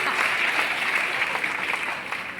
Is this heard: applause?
yes